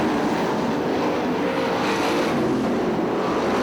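305 sprint cars race at Fremont Speedway, dirt-track racing, producing a dense, continuous roar of engines at full throttle that stays loud and steady throughout.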